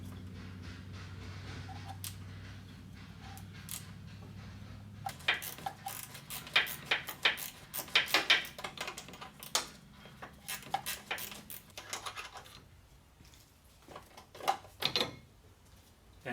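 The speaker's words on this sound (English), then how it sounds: "I'm gonna undo this bolt over here first" A tool works loose a bolt on the charge air cooler of a Mercedes Sprinter van, making bursts of rapid metallic clicks and ratcheting taps, close and irregular, over a faint low hum.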